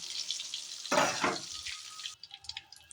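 Eggs frying in hot oil in a pan for Bengali egg bhuna give a steady crackling sizzle, with a louder spattering burst near the middle before the frying settles into a quieter hiss.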